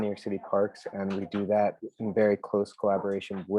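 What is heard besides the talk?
None of the usual background noises is heard.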